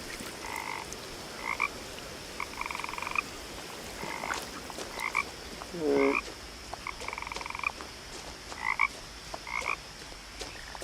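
Frogs croak in the video game What Remains of Edith Finch, a steady series of short, doubled croak bursts repeating every second or so over a faint ambient hum, with one lower gurgling croak near the middle.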